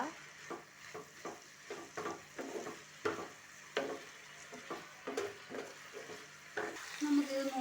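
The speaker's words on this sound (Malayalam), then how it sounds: "കറിവേപ്പിലയും കൂടി ഇട്ടിട്ട് നമുക്ക് ഇത് അടച്ചേക്കണം കറിവേപ്പില ഇടുക ഇളക്കുക" A spoon scraping and stirring curry leaves into ivy gourd and onion frying in a pan, repeated rhythmic scrapes and clinks over a soft sizzle, close and fairly quiet.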